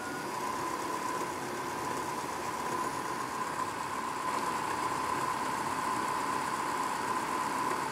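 A DIY CNC mill spindle motor driven by a VFD runs at 1000 RPM, giving a steady, even electric whine with a constant mid-pitched tone over a broad hum, unbroken throughout.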